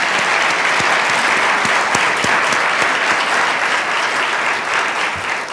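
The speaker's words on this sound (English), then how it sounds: "I would love to give our vendors a round of applause for taking that time." An audience at a Reverse Industry Day event applauds the vendors, a steady, loud wash of clapping that holds evenly from start to finish.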